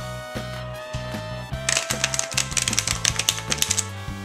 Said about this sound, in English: Then shuffle the deck.